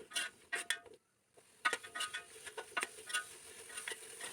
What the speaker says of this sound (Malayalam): പൈനാപ്പിൾ കഷ്ണങ്ങൾ നെയ്യിൽ കിടന്ന് വഴന്ന് വെന്ത് വരുന്നിടം വരെ ഒന്ന് വഴറ്റി കൊടുക്കണം